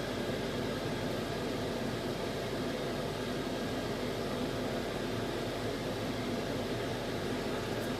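An electric fan runs at close range, producing a steady, loud broadband whoosh with a low hum underneath that stays constant throughout.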